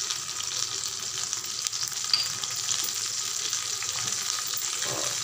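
Eggplant pieces frying in a pan give off a steady, close sizzle with light stirring scrapes, a constant hiss throughout and no talking.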